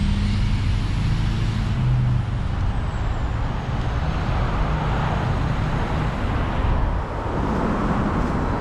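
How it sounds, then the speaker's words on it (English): A large truck rolls past in Seattle traffic, a loud, close, sustained roar of engine and tyres with a faint descending whine near the top, swelling and easing as it goes by, with no talking. "big boy truck."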